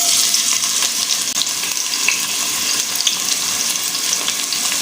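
Two chopped onions sizzling in a cup of hot oil in a cooking pot, a steady, dense frying hiss running unbroken and fairly loud throughout, with no talking.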